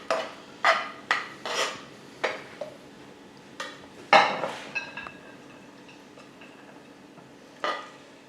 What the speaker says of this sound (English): Final little stir using a spoon that you haven't tasted with.